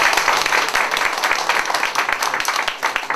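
Audience applause at a lawyer's lecture in Changwon, dense clapping from a crowd filling the whole stretch at steady loudness.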